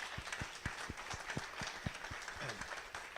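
Applause for a panel at a town hall, a modest audience clapping in a loose, regular patter that carries evenly throughout, close and moderately loud with no voices over it.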